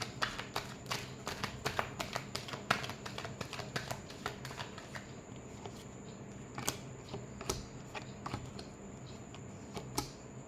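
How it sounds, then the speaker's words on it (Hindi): Tarot cards shuffled by hand for a love reading, a quick run of crisp riffling snaps and taps close up, thinning out toward the end, with no speech. "Last shuffle."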